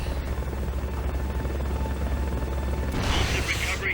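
An enemy helicopter hovers in Metal Gear Solid: Peace Walker, its rotor a steady loud low thrum with a rising whoosh of wind and activity toward the end.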